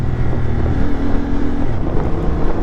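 A 2023 Honda Hornet 750 motorcycle shifting into third gear with a quickshifter while riding: a steady, loud engine drone mixed with heavy wind rush, with a brief change in engine tone partway through.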